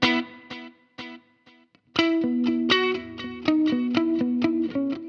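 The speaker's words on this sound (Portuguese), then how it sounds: "Esse delay é o ping pong, tá?" Electric guitar through a Line 6 POD HD500X with ping pong delay, a few sparse picked notes echoing, then a run of loud distorted notes whose repeats bounce back in a steady rhythm.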